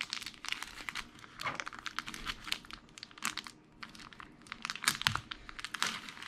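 Packaging tape being peeled and torn away during an unboxing, a run of close, irregular crinkling and ripping bursts with no talking.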